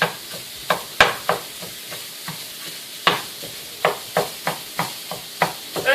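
Sausage sizzles in a pan while a utensil repeatedly stabs and breaks it up, sharp scraping clacks landing in an uneven rhythm over a steady background fry, close and clear with no talking.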